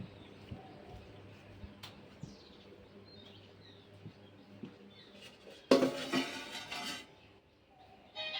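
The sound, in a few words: arranging kitchen utensils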